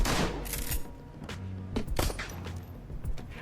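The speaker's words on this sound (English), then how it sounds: "A sniper rifle, a shotgun, and a pistol. All somehow missed me." Mixed gunfire from a sniper rifle, shotgun and pistol in the game Shadowrun Hong Kong: several sharp cracks and thuds in quick irregular succession, fairly loud and close, over a low rumbling background.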